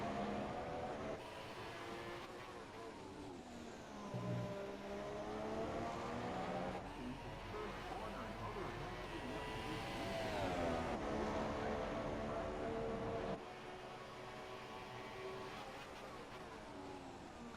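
A Formula 1 race car engine in F1 2017 holding a steady mid-range drone at half throttle, continuous and fairly even, with shifting pitch and no speech.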